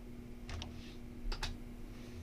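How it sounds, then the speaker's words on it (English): Keys on a computer keyboard are pressed in two quick pairs of light clicks, close and faint over a low steady hum, with no talking. "press the Enter key on your keyboard"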